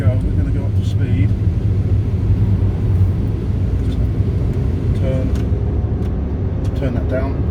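Inside a Mk1 Renault Twingo accelerating up to road speed, a steady rumbling engine and road noise fills the cabin at constant loudness, with faint thumps and clicks and no talking.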